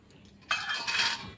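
Steel or ceramic bowls clink and scrape together as they are greased with oil for a rice snack, a brief faint tap followed by a sustained bright metallic rattle close by.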